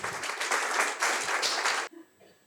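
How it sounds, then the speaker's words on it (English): Applause at a Toastmasters event as a volunteer steps up: dense, close clapping from an audience for about two seconds, then cutting off abruptly to a quiet room. "Let's give a round of applause."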